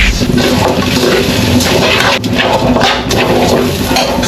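Water gushes into a pot of glutinous rice mixed with regular rice, seasoned with pepper and garlic, for goto; a loud, continuous close pour with turbulent splashing.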